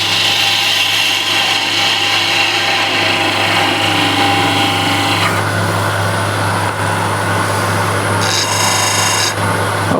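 Woodturning on a lathe, taking light cuts on very hard, dense timber: a steady scraping, rasping hiss from the tool against the spinning wood runs throughout over a constant low motor hum, changing tone midway.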